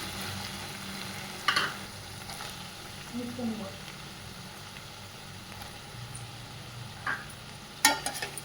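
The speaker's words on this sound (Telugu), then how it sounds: "మునక్కాయలు కొంచెం ఫ్రై అవ్వాలి" Drumsticks (moringa pods) fry with tomatoes in a pan for a brinjal curry, a soft steady sizzle with a few louder crackles and clatters near the start and end, no clear speech.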